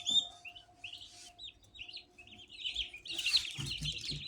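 Eight-day-old turkey chicks chirp close by in a run of thin, high peeping calls that come in quick, uneven bursts and grow busier toward the end, with no talk.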